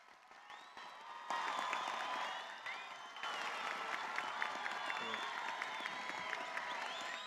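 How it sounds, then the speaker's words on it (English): An audience at a 2022 high school graduation ceremony for James F. Byrnes High School's senior class breaks into sustained applause that swells after a second and then holds steady, heard from within a large hall. "Please give a round of applause for this senior class."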